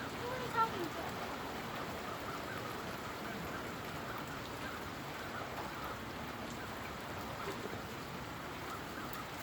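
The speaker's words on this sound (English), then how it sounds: "and it's raining" Steady rain falls outdoors on a mild Christmas Eve night, an even, dense patter on surfaces with no breaks, moderately close.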